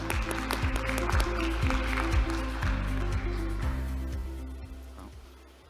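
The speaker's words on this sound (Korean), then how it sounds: "저희들이 박수로 환영을 하는 시간을 갖도록 하겠습니다" Audience at a Korean academic conference session applauding to welcome a presenter: dense clapping from a modest crowd, fairly close, holding steady and then gradually tapering off toward the end.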